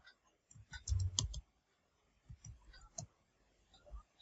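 Keys on a computer keyboard tapped in a short quick burst, then a few scattered clicks, faint and close in a quiet room.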